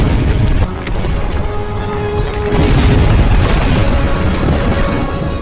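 Deep, continuous rumbling of an earthquake in a horror film, a dense, loud low roar that swells midway, with crashing debris and mechanical creaks layered over it throughout.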